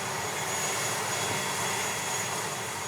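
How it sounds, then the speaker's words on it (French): A passenger airplane flying from Papeete lands at Rangiroa atoll in French Polynesia, its engines producing a loud, steady roar that fills the whole span without pause. "l'avion dans lequel ont embarqué Ulysse et Roméo arrive à Rangiroa"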